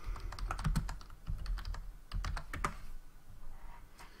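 Rapid typing on a computer keyboard, close and clear, with quick bursts of clicking keys separated by brief pauses.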